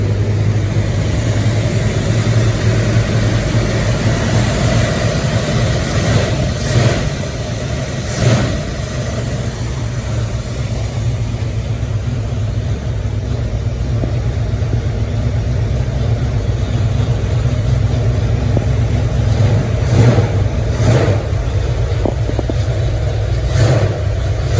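A 1980 AMC Spirit AMX engine running after a cold start, a steady close rumble with a few mild rev swells, no talking.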